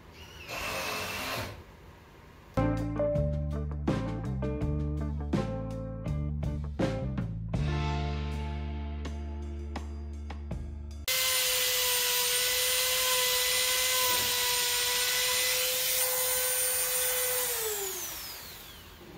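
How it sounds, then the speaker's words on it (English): A Dremel rotary tool roughly shaping and rounding the forehead of a monkey prop, heard as a loud, close, steady high whine that runs for several seconds and then spins down, after a stretch of music. "I just used the Dremel to do some rough shaping of that piece."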